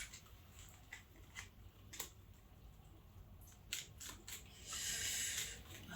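A deck of tarot cards being shuffled by hand, with scattered soft clicks and snaps of card handling, then a denser riffling rush near the end, close and fairly quiet.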